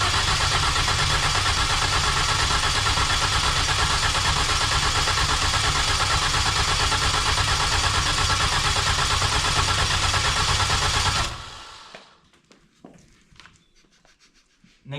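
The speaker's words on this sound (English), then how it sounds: "Which means we should turn this engine on." A Mini R50 race engine being built up runs loud and steady close by with a rough idle, then cuts out abruptly near the end, leaving only faint clicks and rattles.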